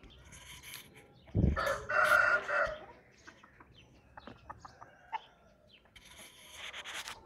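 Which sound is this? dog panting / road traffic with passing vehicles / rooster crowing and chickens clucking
rooster crowing and chickens clucking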